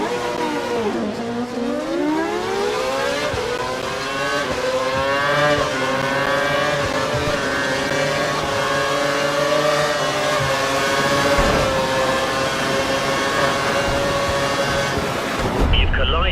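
F1 race cars in the video game F1 2012 accelerate through their gears, loud engine whines climbing and falling in pitch over steady rumble, one car's revving dominant and close throughout.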